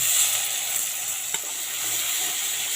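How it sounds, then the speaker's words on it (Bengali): Onion paste frying in a pan with spiced tempering, a steady close hiss of sizzling oil throughout with one faint tap of a utensil midway. "পেঁয়াজটাকে আমি ভেজে নেবো"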